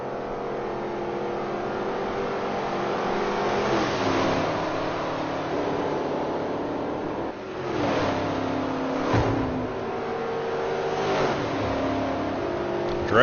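Historic Trans Am racing cars, including a 1969 Camaro and a Chevy Nova, accelerating hard at Indianapolis in a sim race, with steady loud engine roar rising and falling and a few passing surges.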